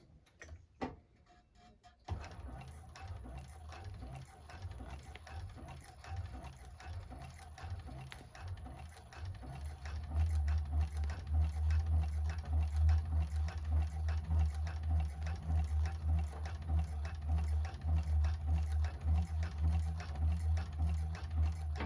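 A 1341 cylinder arm sewing machine stitching a bag, starting after a brief pause with rapid regular ticking stitches, then a louder steady motor drone joining halfway, close and alone with no talk.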